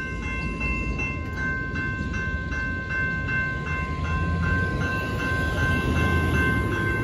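A southbound BNSF auto train of enclosed autorack cars rolls past the Main Street crossing in Temple, Texas, a steady loud rumble of wheels and cars close by, with a crossing bell ringing in a regular rhythm throughout.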